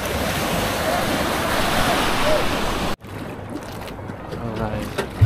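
Ocean waves at an island shore roll in with a loud, broadband wash and rumble under wind buffeting the microphone, then after an abrupt cut the surf continues more softly with a rising swell.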